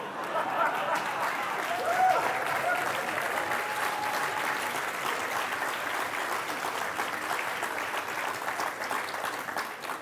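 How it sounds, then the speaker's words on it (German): Lecture audience applauding in a hall, sustained even clapping from many hands lasting around ten seconds, fairly distant and unbroken. "Es ist besser, nicht zu klatschen, das beweist gar nichts."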